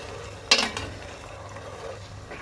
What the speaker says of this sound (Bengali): আমি এটা ভালো করে নেড়ে মিশিয়ে দিচ্ছি।